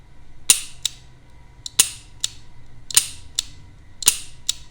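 A Colt Python revolver's hammer is cocked and dropped repeatedly, making crisp close metallic clicks in evenly spaced pairs with quiet gaps between them.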